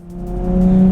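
Tuned R33 Skyline with an RB25 engine pulling hard under turbo boost, a loud steady engine drone that rises in pitch and volume over about a second, with no voices.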